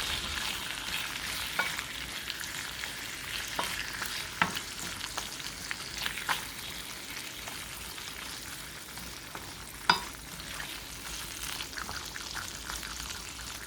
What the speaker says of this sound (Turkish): Sucuklar suyu tamamen çektikten sonra bir tatlı kaşığı kadar da tereyağı ilavesini yapıyorum.